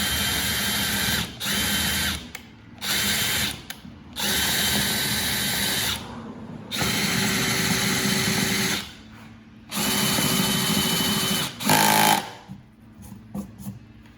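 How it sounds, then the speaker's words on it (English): A power drill with a small bit drilling a pilot hole through wood for a cornhole board whines in loud repeated bursts of a few seconds each, stopping and starting, with a high squeal near the end. "with a smaller drill bit just to make sure my larger drill bit can get in there okay"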